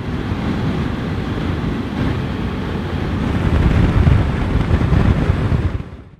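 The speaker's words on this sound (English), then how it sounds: "way too windy" Strong wind buffets the microphone on a hilltop near a reservoir in England's lake country, a constant loud rumbling roar that swells midway and then fades out.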